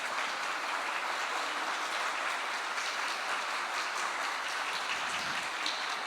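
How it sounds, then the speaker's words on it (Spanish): Welcoming applause from an audience at a Law Week event at Universidad Internacional de las Américas, steady and continuous throughout, moderately distant and even in level with no speech over it. "un aplauso de bienvenida a ellos"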